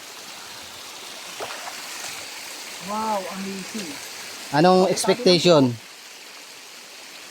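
Cold water of a forest stream flows steadily as a soft, continuous wash in the background, while voices speak and exclaim over it in short bursts.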